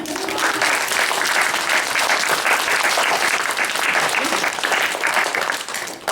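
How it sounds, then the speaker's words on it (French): Applause after a Playmobil show telling the story of Saint Martin, a loud, close, continuous burst of many people clapping that stays even for about six seconds. "Est-ce qu'on applaudit le spectacle?"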